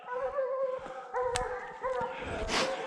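Hunting dogs bay and howl on a wild boar hunt in the snow, sending out repeated drawn-out cries with a sharp yelp in the middle, clear and fairly close.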